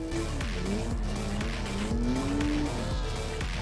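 A car in the Assetto Corsa racing game drifts and spins on a snowy track, its engine revving steadily with rising and falling pitch under repeated tire skids, loud and continuous with no talking.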